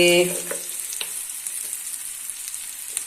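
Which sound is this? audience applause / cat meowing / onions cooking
onions cooking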